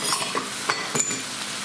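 Tofu stir fry being stirred in a pan, with a steady sizzle and a few light scrapes and clinks from the utensil at close range.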